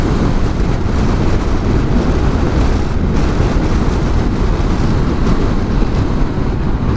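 Wind gusting hard against a rider on a BMW K1600 GTL motorcycle, a steady loud low roar and rumble of buffeting air across the whole stretch, with no voices.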